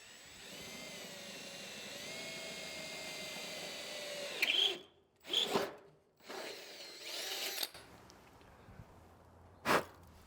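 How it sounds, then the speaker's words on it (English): A power drill bores a hole into the body of an 80 Series Toyota Land Cruiser, a steady high whine running for several seconds, then cutting out in short bursts and stops, with a final brief burst near the end. "So let's drill this sucker."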